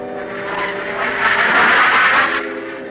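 An F-104 Starfighter jet coming in to land produces a loud roar that swells to a peak midway and then eases off, with no voices over it.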